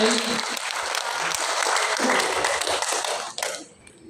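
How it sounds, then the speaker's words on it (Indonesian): Applause from a crowd at an outdoor joint assembly on a field, a dense, steady burst of clapping that carries for over three seconds and then quickly dies away, with a voice faintly mixed in. "Nah kita kasih tepuk tangan juga beliau ini."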